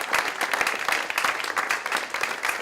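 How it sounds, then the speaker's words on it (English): A crowd applauds congressional candidates at a Progressive Democrats forum, continuous dense clapping filling the room at a steady loud level, with no voices over it. "Give all of our candidates a round of applause."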